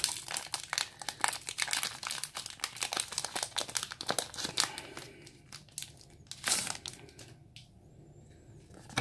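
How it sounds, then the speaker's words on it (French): A foil booster pack wrapper is torn open and crinkled close up in a quiet room, with dense crackling and rustling bursts that thin out toward the end. "on va s'ouvrir le premier booster"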